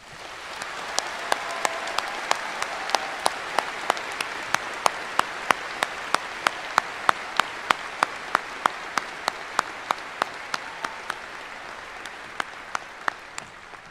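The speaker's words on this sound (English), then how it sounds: "Please join the seniors and me in thanking them with a round of applause." A high school commencement audience applauds teachers and staff in a long, steady round of clapping, with a few sharp, close claps standing out rhythmically above the crowd before it slowly tapers.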